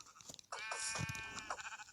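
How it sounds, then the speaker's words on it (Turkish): Sheep bleat in a video game, a clear wavering cry that swells and holds for over a second, then a second shorter bleat follows, loud and close. "Hop şuradan ikinci koyunumuzu alalım."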